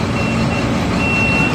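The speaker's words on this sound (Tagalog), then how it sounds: "Ayan na po, dumating na po yung truck." Concrete mixer truck reversing on a construction site, its backup alarm beeping steadily and loudly over a continuous diesel engine rumble, with no talking.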